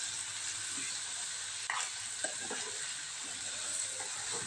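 Onions frying in a pan with a little salt for a meal maker masala gravy curry, a steady soft sizzle with occasional faint stirring clicks and scrapes, quiet and continuous.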